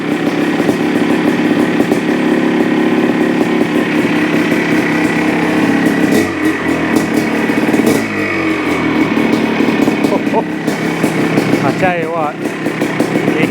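A restored 1984 Yamaha YZ490 motorcycle engine idles close by with a steady, even throb that runs unbroken throughout, with a brief dip in the middle and some faint background noise and voices.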